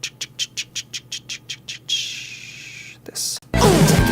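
Birds chirp in a quick series of about ten sharp, evenly spaced tweets, followed by a longer squawky call and a brief burst of noise, the calls close and clear with no talking.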